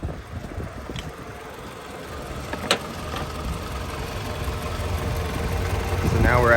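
A car engine idles at about 900 RPM after a refrigerant recharge, a steady low rumble that gradually gets louder, with wind noise and a few faint clicks.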